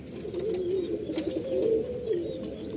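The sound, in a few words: pigeons cooing in a high-flying pigeon loft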